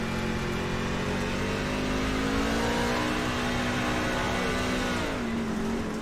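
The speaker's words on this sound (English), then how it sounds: "Heard him heavy on the throttle," A race truck engine at a Bristol dirt race is held heavy on the throttle, a loud, close, sustained revving drone with a rising then falling pitch, alone without voices.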